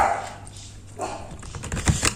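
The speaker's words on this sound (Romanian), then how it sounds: "Dacă s-a auzit un cățel, este cățelușul meu" A small dog barks and yips indoors, a few short, moderately close barks over faint room noise.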